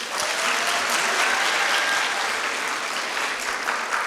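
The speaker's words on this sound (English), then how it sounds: "a huge round of applause for everybody." Audience applause at a university convocation ceremony, a dense, sustained roar of many hands clapping at steady loudness throughout, with faint cheering in the crowd.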